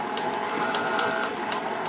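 An electric mixer whirs steadily while mixing macadamia nut white chocolate chip cookie dough, a constant mid-pitched motor hum with faint rhythmic ticks and no talking.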